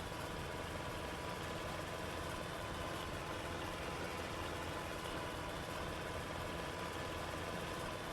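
Small mower engine running steadily in Farming Simulator 22, a constant faint droning hum that holds without change, no talk over it.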